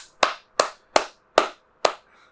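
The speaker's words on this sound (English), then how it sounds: "Keep clapping. Keep clapping." An audience claps in five separate, evenly spaced bursts, each a sharp crack that dies away quickly, close and clear with no talking over it.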